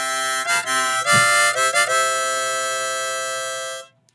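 Harmonica plays the opening line of a song's intro, a sustained, reedy run of alternating notes with a few quick changes, loud and close, holding a long final chord before cutting off.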